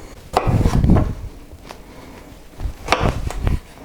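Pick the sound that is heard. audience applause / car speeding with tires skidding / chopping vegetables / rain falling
chopping vegetables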